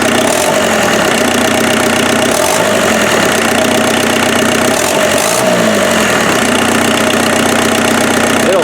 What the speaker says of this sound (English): It'll sit here and idle all day though.